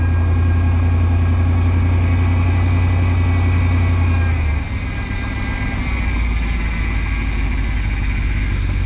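A 1967 Pontiac Grand Prix convertible engine running just after starting, with a loud, steady idle close by and a low rumbling hum that drops briefly in pitch midway before settling back.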